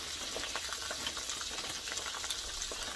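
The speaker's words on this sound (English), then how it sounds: "We're gonna smother it with water, with butter" Branzino fish frying in butter in a pan gives a steady, dense sizzle that crackles evenly and continuously throughout, with no voices.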